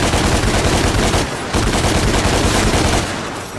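Dense, rapid gunfire from Devil May Cry gameplay, loud and continuous bursts with a brief dip in the middle before firing resumes, then tapering slightly at the end.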